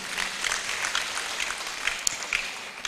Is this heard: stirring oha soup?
no